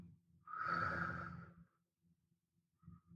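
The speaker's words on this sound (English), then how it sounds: "Let's take another deep breath together." One slow, deep breath drawn in and let out, close and soft, followed by quiet faint breathing, with no talking.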